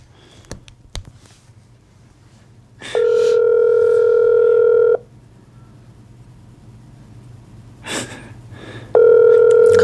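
A telephone ringback tone sounds twice, a steady buzzing burst of about two seconds, then a pause and another burst, over faint room noise.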